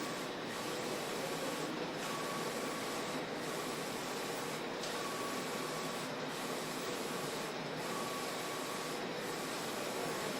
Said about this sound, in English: you'll get a good feel for how quickly the machine can lay out and print